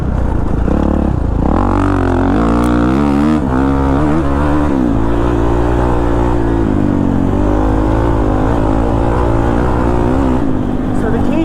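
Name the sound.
Kawasaki KX450 dirt bike riding on the throttle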